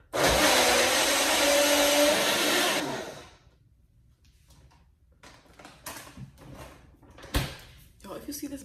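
A cheap blender whirs loudly and harshly for about three seconds, then cuts off, followed by quieter clattering and handling noises.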